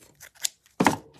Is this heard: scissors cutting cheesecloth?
yes